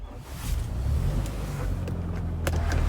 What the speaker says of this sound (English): I will start it up and I'll show you the sunroof working.